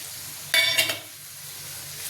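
Tamarind water poured into a simmering murrel fish curry, a brief sizzling splash of under half a second over a quiet cooking background.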